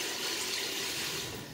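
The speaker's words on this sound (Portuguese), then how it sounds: "eu coloco água," Tap water gushes steadily into a greasy cooking pan in a sink, a close, even rushing flow lasting under two seconds with no talking.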